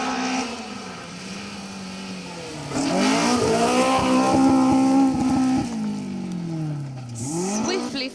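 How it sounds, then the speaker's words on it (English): A Peugeot rally car crewed by Keelan Grogan and Ayrton Sherlock blasts past on a Welsh Cambrian Rally special stage, its engine note rising and falling through gear changes, loud and close, then fading away. "Keelan Grogan and Ayrton Sherlock come through in the Peugeot."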